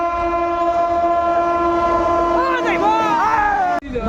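Inside a crowded passenger train, the train rumbles steadily with a long sustained horn blaring over it, shifting pitch near the end before cutting off abruptly.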